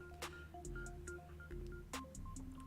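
Telephone line tones as a call connects during a live football review stream, a quiet series of short beeps and tones with a few brief clicks.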